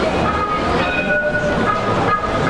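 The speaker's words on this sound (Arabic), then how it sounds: "هذا القطار بنص العالم والسوق والشارع" A train rolls loudly and continuously through a street market in Istanbul, a close, steady rumble and clatter carrying tonal horn-like notes, with no talk over it.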